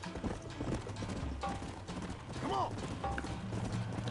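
Hoofbeats of a stolen horse in Red Dead Redemption patter along amid busy game sounds, with a brief mechanical clatter and a faint whinny-like tone partway through.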